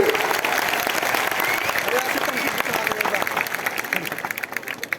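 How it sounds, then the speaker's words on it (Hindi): A big crowd at a Tipra Motha political rally claps continuously, a dense loud wash of applause that tapers slightly near the end, with a voice faintly underneath. "बड़ा हाथ से ताली।"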